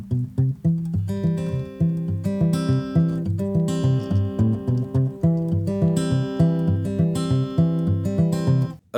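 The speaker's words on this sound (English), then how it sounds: "there are some instances where we desire to have a sort of bass or oompa effect going on" Fingerpicked guitar with an alternating oompa bass: steady low thumb notes bounce under plucked melody notes in a continuous, even rhythm, played alone with no talking.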